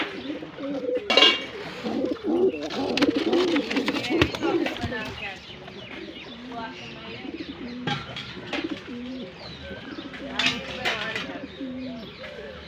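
Pigeons coo in soft, repeated throaty phrases close by after being let out of their coop, with occasional chirps and a brief flutter, while someone talks over them.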